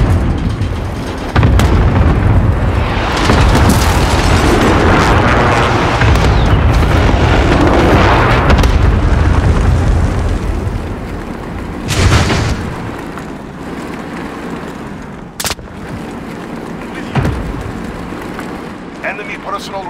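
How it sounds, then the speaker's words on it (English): Cluster airstrike explosions in Call of Duty Modern Warfare multiplayer: a long rolling barrage of deep, loud booms, then a few separate blasts, with game voice lines over them. "Allied cluster strike inbound. Friendly precision airstrike on the way."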